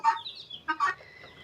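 Chickens in a coop cluck close and clear in a few short, sharp calls, one after another, with a faint honk-like note between them.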